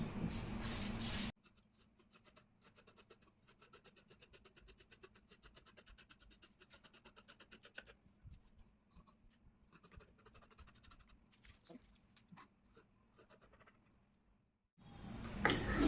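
Scissors snip through a paper pattern for a long pencil skirt, making faint, soft scratchy cuts in a quiet room, with louder bursts of sound at the very start and end.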